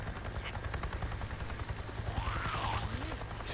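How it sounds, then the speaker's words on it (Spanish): Helicopter from the video game Days Gone passing overhead, a steady rapid rotor chop that grows slightly louder toward the end, with faint background game effects. "¡Un helicóptero de Nero pasó volando sobre mí y actuó como si yo no estuviera ahí!"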